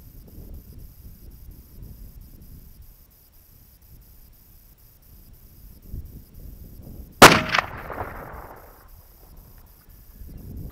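A single loud 30-06 rifle shot fired through a cheap clamp-on muzzle brake, a sharp close crack with a short ringing tail, after several seconds of quiet outdoor background.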